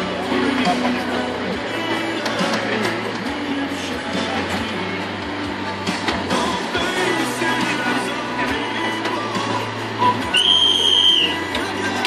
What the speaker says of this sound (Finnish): Ja näin lähtee vihelyksestä